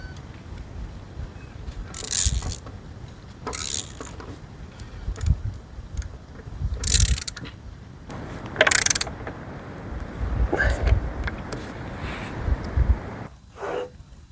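Bolts being fastened with a ratchet over a gasket at a workbench, giving several short bursts of ratcheting and clicking spread through the stretch, close by against a quiet room background.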